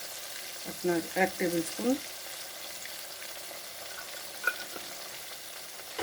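Ginger paste fries in a pan with a soft continuous sizzle and faint stirring, while someone speaks briefly near the start; a single sharp clink sounds later.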